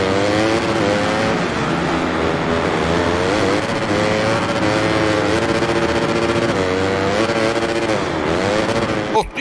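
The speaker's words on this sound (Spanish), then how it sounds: "¡Qué trompo que ha pegado la moto, tío!" Motorcycle engines roar steadily in the Monster Energy Supercross 6 racing game, loud and continuous with rising and falling revs over nearly ten seconds and a sharp clatter at the end.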